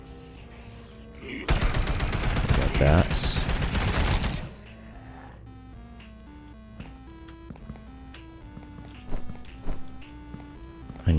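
Gunfire in the video game Sketchy's Contract, a burst of rapid shots lasting a few seconds over game music, followed by quieter tonal music and footsteps; a voice speaks briefly.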